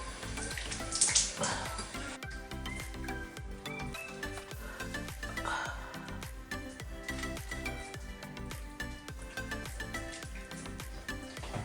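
Water from a tap runs steadily into a sink while a face is washed after makeup removal, a continuous close splashing rush with small shifts in flow and no speech.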